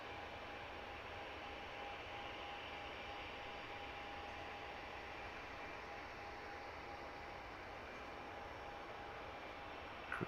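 Distant roar of an EasyJet Airbus A319 jet airliner departing Luton airport, a steady broadband rumble with a faint whine holding through the whole stretch, no voices.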